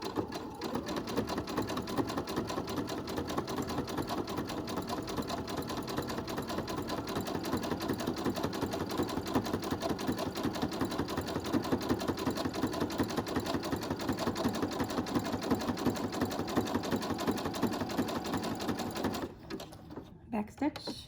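A sewing machine runs fast and steadily, stitching bias tape onto a homemade fabric medical mask in a dense, even mechanical chatter that stops abruptly near the end.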